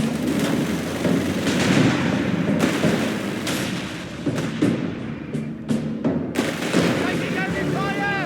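Battlefield combat in Company of Heroes 3 with repeated sharp gunshots and heavier booming blasts going off irregularly, some close and loud, over a dense rumble of firefight, with brief voice callouts mixed in.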